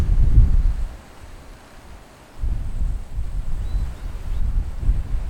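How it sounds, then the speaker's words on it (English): Strong wind buffets the microphone in low, roaring gusts, easing for a moment before surging back steadily. "It's becoming very windy this morning. Very strong wind."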